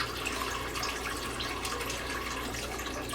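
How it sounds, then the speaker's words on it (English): Chicken broth pours steadily into a pot of water for creamy bowtie pasta with sausage, a soft, continuous splashing trickle heard alone and fairly quiet. "I'm gonna add 3 cups of chicken broth."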